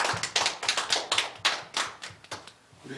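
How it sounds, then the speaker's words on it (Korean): A church congregation at a Sunday worship service applauds, dense rhythmic clapping from many hands filling the space, fairly close and steady before it begins to fade near the end. "우리에게 은혜 주신 하나님께 영광의 박수 올려드리겠습니다"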